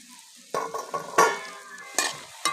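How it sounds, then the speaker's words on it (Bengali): Crispy gaja dough sticks are dropped into reheated oil, giving short bursts of bubbling sizzle and stirring clatter that rise and fade several times. "এবার এগুলো আমি তেলের মধ্যে দিয়ে দেবো"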